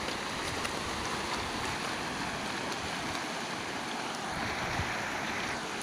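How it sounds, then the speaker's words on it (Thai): Sea waves wash over coral reef shoals in a steady, broad roar of surf and moving water, continuous and fairly even, with no voices. "ความสวยของคลื่น"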